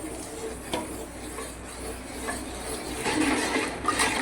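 Wheat flour batter being stirred in ghee for Tirunelveli halwa, a steady scraping and soft sizzling in a pan that grows a little busier toward the end, close and moderately quiet with no voices.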